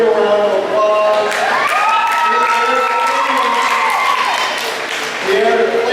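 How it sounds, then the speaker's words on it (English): A crowd at the Carroll County Fair main show gives a round of applause, steady clapping mixed with cheers and children's shouts, fading near the end before picking up again. "Give her a round of applause."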